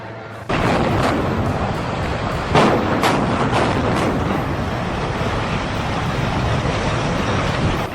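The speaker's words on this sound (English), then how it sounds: "Boom, first one crumbles, and bam, the second follows." Two demolished towers collapse one after the other at an industrial site, a sudden loud boom followed by a second blast and a long, dense roar of crumbling debris that continues unbroken.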